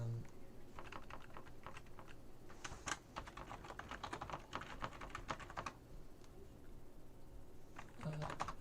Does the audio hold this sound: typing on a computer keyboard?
yes